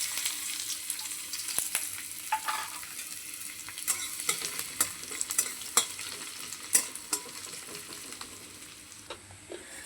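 Chopped onion, garlic and ginger fry in a hot pan for egg chicken chow mein, a steady sizzle broken by repeated scraping stirs and clinks of a spatula, with no talking.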